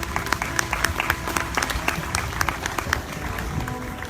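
Audience at a county fair queen coronation applauding a candidate, brisk dense clapping from a crowd with a few sharper nearby claps standing out, loud and continuous.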